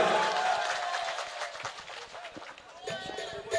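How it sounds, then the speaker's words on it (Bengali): Loud audience applause at a Bengali pala gaan folk song performance at the Dewan family home, a dense, continuous patter of many clapping hands mixed with crowd noise and voices. "জোরে হাততালি হবে"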